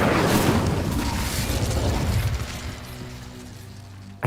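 Incendio fire spell cast in Hogwarts Legacy, a loud whooshing burst of flame that roars for a couple of seconds and then fades into a low rumble.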